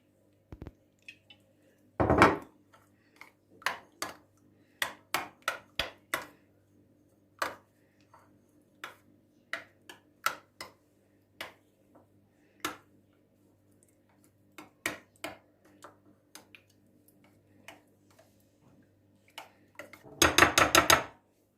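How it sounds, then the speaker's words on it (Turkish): Eggs whisked with salt and oil in a bowl for Turkish gözleme, heard as a long run of sharp, irregular clinking taps of utensil against the bowl, with a louder scraping burst near the start and another at the end. "Bunları iyice çırpacağız şöyle."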